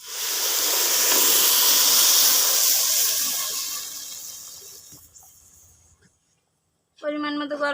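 Hot water poured onto rice frying in a pot for pulao sets off a loud, close hiss of steam that swells, then slowly fades to quiet before a voice starts talking.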